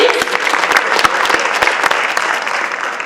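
Applause and cheering from an audience at a port authority's annual address, a dense steady wash of clapping with sharp individual claps standing out, loud and sustained throughout.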